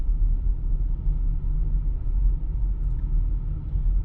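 Tesla on FSD V13.2 drives slowly along a snowy street at about 25 mph, a steady low cabin rumble of the car rolling with no other sounds.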